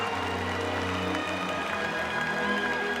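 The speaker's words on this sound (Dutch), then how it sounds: "Maar we gaan afscheid nemen van Jurre 495 met applaus" Audience applause in the arena at a championship show of older stallions, a steady, fairly quiet spread of clapping and crowd murmur filling the hall.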